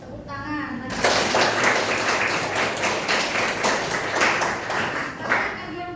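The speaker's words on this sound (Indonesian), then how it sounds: "Bagus, tepuk tangan." Classroom applause from a group of students, a steady burst of dense clapping that starts abruptly after a brief quiet moment and continues evenly at close range, with some children's voices mixed in.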